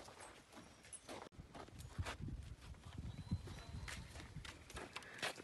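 A mare's hooves clip-clopping as she walks on a ranch, a steady run of close, distinct strikes over a busy outdoor background with no talking.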